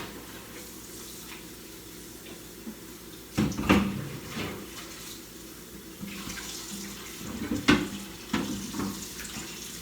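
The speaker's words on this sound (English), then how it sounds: "So I take the chicken, rinse it in cold water." Cold tap water runs into a kitchen sink as raw chicken is rinsed for a family soul food meal, a steady close splashing with two louder bursts of gushing and handling near four and eight seconds.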